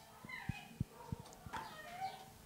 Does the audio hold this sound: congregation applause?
no